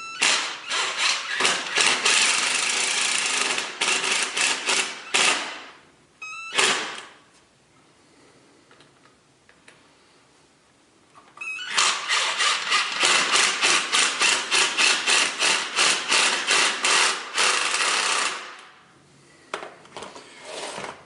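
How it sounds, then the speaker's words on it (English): A power driver sets Tapcon masonry screws to hold a metal toilet flange ring down to concrete, two loud rattling bursts of whirring and ratcheting separated by a quiet pause, with brief clanks between. "you can add your Tapcon screws to hold the metal ring down"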